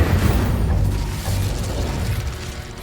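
Incendio fire spell cast in Hogwarts Legacy, a loud, dense rumbling burst of flame with crackling, booming texture that surges at the start and sustains steadily throughout.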